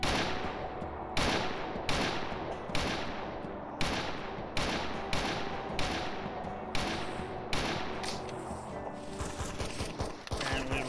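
Gunfire from zombies in the survival video game Anomaly, a rapid, steady string of repeated shots running throughout, dense and continuous at moderate level.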